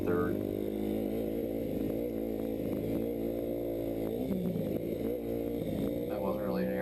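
A Yamaha YZ250F four-stroke motocross bike runs steadily on a dirt track, its engine droning loud and close with shifting pitch as it accelerates and eases off through the whole stretch.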